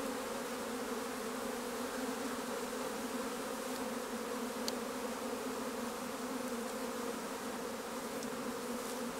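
Honeybees hum steadily around a hive being set up on a homestead, a dense continuous buzz close by with no voices.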